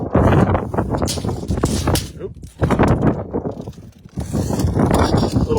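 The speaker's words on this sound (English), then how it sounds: "A little windy." Wind gusts buffet a microphone on a house roof during a roofing job, with loud rumbling bursts that rise and fall, and a person briefly speaks.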